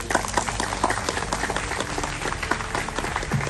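Applause at a civil court proceeding rises from a crowd as dense, steady clapping, fairly close and continuous throughout, with no clear voices on top.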